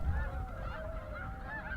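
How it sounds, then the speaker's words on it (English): Snow geese honk in a field, a busy overlapping chorus of many calls at middle distance, steady throughout with a low rumbling wind-like background. "the snow geese, they were right back in the same field again"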